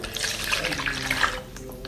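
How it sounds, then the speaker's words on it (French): Warm milk poured into a bowl while making a chicken quiche, a steady splashing liquid stream running close and continuous for the whole two seconds, with no voices. "on va d'abord mettre le lait tiède."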